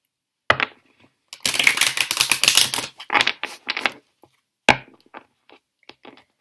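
A deck of tarot cards shuffled in a few separate rounds, each a close, crisp burst of riffling and card slaps, with quieter taps in the gaps and no talking.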